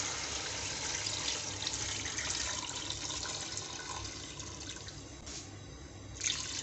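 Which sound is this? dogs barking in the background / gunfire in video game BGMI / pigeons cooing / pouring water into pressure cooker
pouring water into pressure cooker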